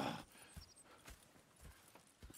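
Horse hooves in Red Dead Redemption 2, a slow, even clip-clop of a few distinct footfalls on hard ground, soft and fairly close, with no talking.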